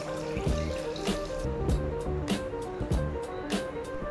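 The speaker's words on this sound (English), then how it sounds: "untreated river water is poured into the container to represent the raw water source" Untreated river water pours into a container for a filtration system, a close continuous splashing gurgle with a rhythmic pulse of small surges.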